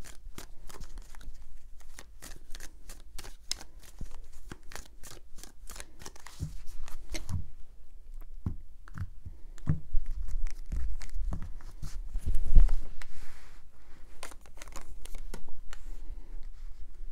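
A deck of tarot cards being shuffled by hand, close up, in repeated bursts of crisp riffling and flicking with short pauses between, a few louder thumps near the end.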